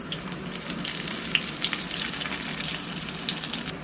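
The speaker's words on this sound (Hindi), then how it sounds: "कबाब दोनों साइडों से फ्राई हो गए।" Shami kebabs fry in oil in a pan, giving a steady, close sizzle with fine crackling and small pops that continue throughout, with no talking.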